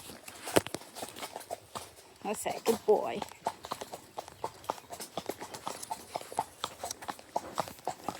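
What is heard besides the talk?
horse hooves walking on a lane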